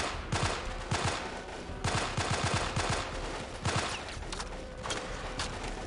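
Gunfire from the video game Delta Force Black Hawk Down during a Team Sabre mission on Kharg Island, with rapid bursts of automatic shots in clusters, loud and continuous over a dense battle background.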